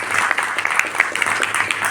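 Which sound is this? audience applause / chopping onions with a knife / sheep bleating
audience applause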